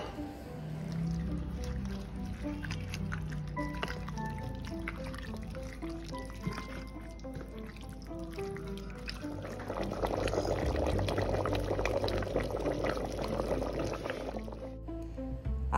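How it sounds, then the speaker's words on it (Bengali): Mutton is washed with hot water in a kitchen, making quiet splashing, pouring and dripping that swells into a fuller, busier slosh of water over the last several seconds. "এবার মাংসটা ধোব। মাংস কিন্তু ধুতে আমি সবসময় গরম জল ব্যবহার করি।"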